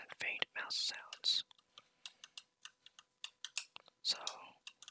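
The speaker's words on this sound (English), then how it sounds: "This ASMR video will be including my voice, mouth sounds, faint keyboard sounds, and faint mouse sounds." Close ASMR whispering with wet mouth sounds, followed by a run of faint, quick keyboard clicks in near silence.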